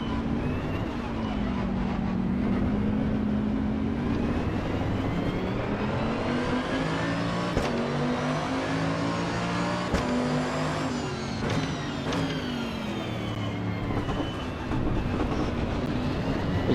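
Race car engine in the Assetto Corsa EVO racing game drones steadily and loudly throughout, pitch rising and falling with gear changes around a chicane, with a voice talking over it.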